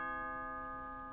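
A cartoon doorbell sounds one sustained, bright ringing tone that holds evenly and fades slightly, alone and with no talk.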